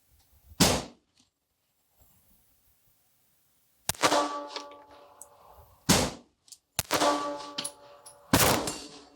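Four sharp, loud .380 pistol shots ring out at an outdoor Winchester range, fired singly at irregular intervals with brief echoing decay after each and quiet pauses between.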